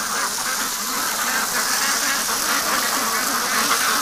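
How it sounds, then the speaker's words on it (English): A flock of pet ducks being raised crowds around a garden hose, quacking in a loud, continuous jumble close by, with a hiss of noise underneath. "Oh, ducks, you guys are crazy."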